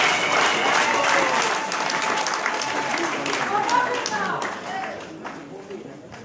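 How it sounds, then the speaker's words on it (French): Warm audience applause for the governor at women's rights day festivities in Mrodjou, Comoros, a sustained dense clapping with voices and cheers mixed in, tapering off toward the end. "je vous prie d'applaudir très chaleureusement Madame la gouverneure"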